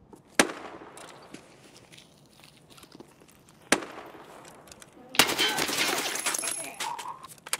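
Gunshots in Escape from Tarkov on the Reserve map, two sharp separate cracks a few seconds apart followed by a harsher, louder burst of fire and noise, with a voice speaking faintly.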